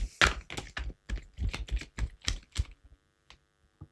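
Tarot cards being shuffled, a run of quick, uneven papery riffles and slaps, close and fairly loud, followed by a few softer taps near the end.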